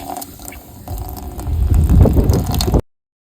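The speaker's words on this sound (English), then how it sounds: "open up the valves hot and cold. Let most of this antifreeze out of the system." Water and antifreeze flush out of opened hot and cold valves in a plumbing system, a loud, close rush of gushing, gurgling liquid that builds and then cuts off abruptly.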